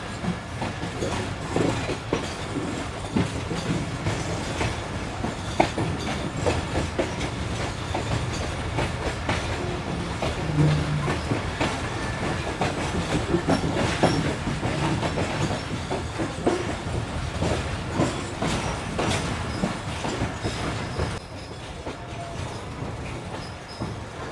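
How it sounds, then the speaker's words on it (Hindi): Karakoram Express train running on a rail line cut through a mountain, with a steady rumble and rhythmic clickety-clack of wheels heard from on board, continuous and moderately loud throughout. "यहाँ से इस वक्त हमारी गाड़ी गुजर रही है।"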